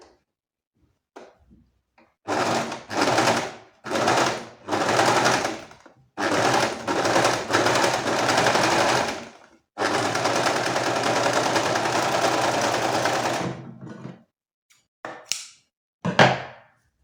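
An overlocker serger sews through fabric in several short stitching bursts, then one longer continuous run, loud and close, with quiet pauses between bursts.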